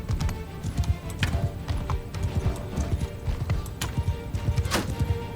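Cavalry horses charge in a video game battle, a dense run of loud galloping hoof beats with occasional whinnies over the sounds of fighting.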